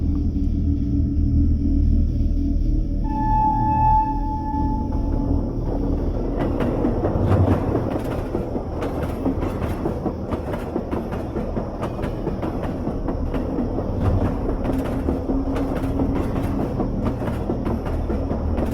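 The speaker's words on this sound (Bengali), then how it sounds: "ট্রেনটা প্ল্যাটফর্মে এসে দাঁড়ালো" A train pulls into a platform with a short tonal horn or whistle, then a long, loud rumble and rhythmic clatter of wheels over rail joints, steady and close, with no voices.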